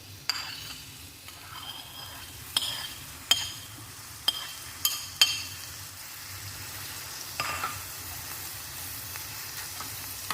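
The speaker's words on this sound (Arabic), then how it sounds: "غادي نحركوه غير شويه ماشي بزاف، غير باش يذوب لينا شويه" Mushrooms stirred in a pan of white sauce for spaghetti, a soft scraping stir over a low, steady sizzle, with a few sharp utensil clinks against the pan spaced through the first half.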